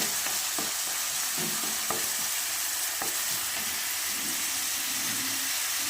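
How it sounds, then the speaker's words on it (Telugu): Green chillies and curry leaves frying in a pan for a homemade potato kurma, a steady dense sizzle running throughout with a few soft clicks and stirring taps standing out, close and continuous. "కరివేపాకు వేసుకుని ఫ్రై చేసుకోవాలండి"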